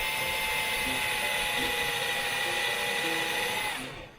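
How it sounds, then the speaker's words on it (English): A power drill whines continuously at high speed, loud and close, with a faint grinding texture, then spins down and fades at the end. "you got to get the right size drill bit to make the right size hole"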